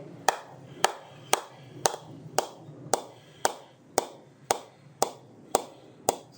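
Crisp, evenly spaced taps run up a Gray-Nicolls Ultimate cricket bat from the toe toward the handle after knocking in, about a dozen sharp knocks roughly half a second apart, close and clear with no talking.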